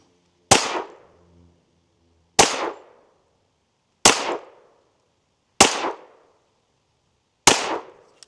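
Five sharp rifle shots firing 10mm rounds, evenly spaced about one and a half seconds apart, each a loud crack with a short decaying tail, no talking.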